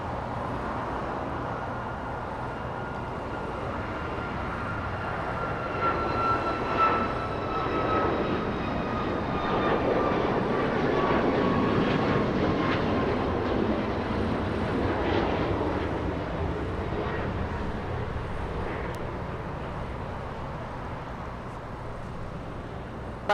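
An Air Canada Boeing 737 MAX 8 jet airliner at Los Angeles International Airport roars steadily, its engine noise swelling to a broad peak midway and then slowly fading, heard from a distance with no talk.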